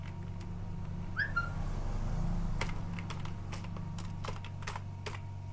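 Keys clatter on a computer keyboard in irregular clicks across the whole stretch, over a steady low hum from the room and a brief whistle-like tone early on, with no one speaking.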